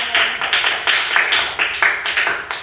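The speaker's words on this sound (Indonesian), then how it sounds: "Beri aplaus untuk kelompok 2." A classroom of students claps for a group that has just presented its ribbon embroidery work: a modest round of overlapping hand claps with an uneven beat, steady throughout and with no voices.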